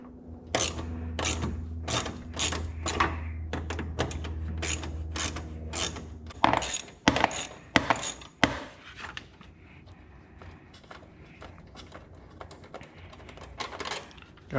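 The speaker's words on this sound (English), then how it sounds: "So first thing you want to do is you want to remove this bolt right here." A ratchet clicks in quick repeated strokes as it backs a bolt out of a Dodge Challenger's air intake during a cold air intake install, up close, followed by scattered clanks and handling noises.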